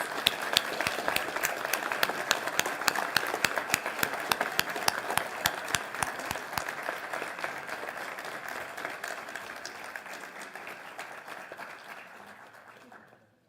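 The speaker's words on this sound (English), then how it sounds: "Let's give these students a big round of applause." Audience applause for students at a school board meeting: steady, moderate clapping from a modest crowd in a meeting room that slowly thins and fades out over about thirteen seconds.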